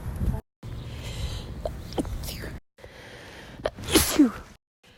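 Several sneezes from one person in a row, separated by brief silences, with the final sneeze the loudest and sharpest; close to the microphone with light background noise.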